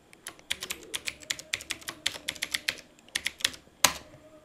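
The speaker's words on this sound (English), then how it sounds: "we'll type the password that we have done during the first part of installation" Someone types a password on a computer keyboard during a server installation, about thirty quick, close key clicks in an uneven rhythm, with one sharper press near the end and no talking.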